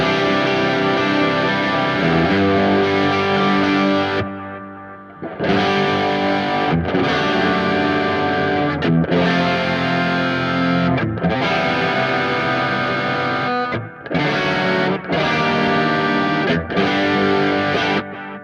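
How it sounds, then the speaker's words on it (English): Distorted electric guitar played through two amps and a Creation Audio Labs MW1 studio tool with chorus and delay: sustained, loud chords ring continuously with a shimmering, echoing tail, broken by a few brief gaps between strums. "you should get some chorusing and delay"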